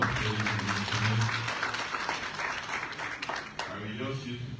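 Audience applause at a democracy-strengthening conference in Freetown, Sierra Leone, a dense, steady patter of many hands that swells early and tapers slightly, with a voice speaking over the start.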